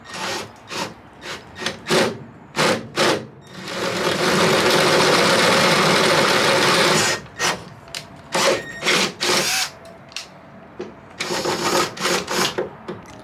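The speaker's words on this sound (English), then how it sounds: "we're just gonna drill them out at the same time" A power drill drills out plastic clip retainers in a Toyota Land Cruiser Troop Carrier, whirring in short bursts with one long sustained run in the middle, close and loud, between clicks and handling noises.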